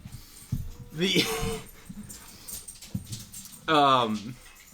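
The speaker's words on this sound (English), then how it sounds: "Studio dog just spoke up." A dog in a studio gives two short whining barks or yelps, one early and a louder, higher one near the end, amid voices and quiet room noise.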